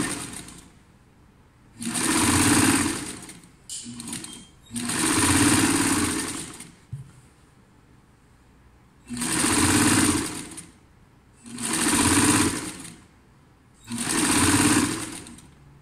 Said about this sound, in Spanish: estoy cosiendo la aletilla